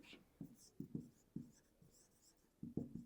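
Pen writing on paper while working a sixth-grade fractions maths exercise: soft, close scratchy strokes in short irregular bursts, faint and alone.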